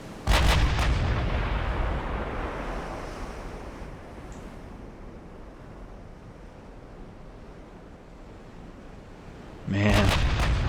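Naval artillery fire in the Ultimate Admiral: Dreadnoughts warship game: a loud booming salvo opens, rumbles and fades into a wash of sea and wind, then a second heavy blast strikes near the end.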